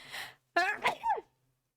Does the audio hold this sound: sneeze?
yes